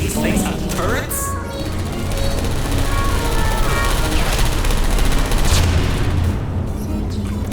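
Turrets firing in Portal Stories: Mel, dense rapid bursts of gunfire and booms filling the whole stretch, loud and close.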